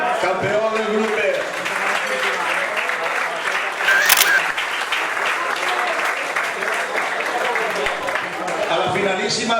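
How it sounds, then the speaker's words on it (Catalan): Guests at a veterans' football league closing dinner applaud the group champion, Perelló, in a full, steady round of clapping that fills the room from start to finish, with voices and crowd murmur underneath. "Tinc un aplaudiment per al Perelló"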